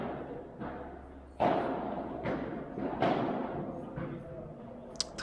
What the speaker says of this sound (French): Très bien joué avec la double vitrée.